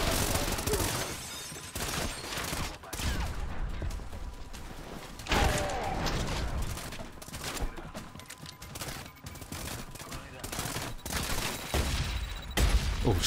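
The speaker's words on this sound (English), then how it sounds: "I'll use the shotgun for now." Shotgun blasts and heavy gunfire in the video game Trepang2, loud repeated bursts at uneven intervals with clanks and impacts between them.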